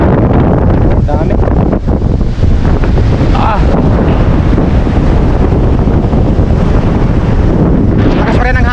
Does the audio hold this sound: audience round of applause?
no